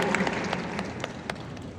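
Room of business school attendees applauding, a modest, fairly distant patter of clapping with a few sharper individual claps standing out.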